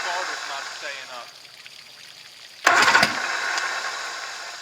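An outboard motor on a 1984 Grady White Overnighter 20 boat cranks in a short loud burst after a quieter stretch, with a voice briefly heard at the start.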